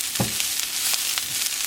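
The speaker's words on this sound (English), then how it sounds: "Saute up some kale really quick" Kale sautéing in a little olive oil in a pan, a steady close sizzle and crackle with faint stirring clicks, and no voices.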